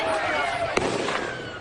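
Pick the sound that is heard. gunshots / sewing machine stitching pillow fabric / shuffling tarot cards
gunshots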